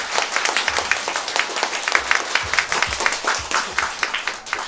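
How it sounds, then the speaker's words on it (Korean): A church congregation applauds at a founding worship service, a loud, dense run of rapid handclaps filling several seconds with no speech over it. "우리 박수로 하나님께 영광 드릴까요?"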